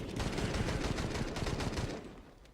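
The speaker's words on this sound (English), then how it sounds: "Guns them all down. With the FAMAS." FAMAS rifle fire in Counter-Strike during a competitive match, a loud close burst of rapid shots lasting about two seconds, then quickly cutting off, with no talk over it.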